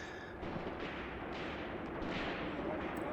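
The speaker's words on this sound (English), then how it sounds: "Most of my infantry are beginning to return fire." Infantry gunfire in the World War II tactics game Graviteam Tactics: Mius Front, with steady rumbling of distant small arms and artillery rolling as a dense, continuous barrage with no speech.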